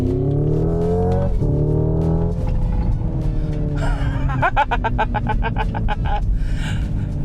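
A Hyundai Ioniq 5 N electric car accelerates hard, its engine-like tone climbing steeply in pitch through several simulated gear shifts, each marked by a quick stutter and drop before rising again, loud and continuous from inside the cabin.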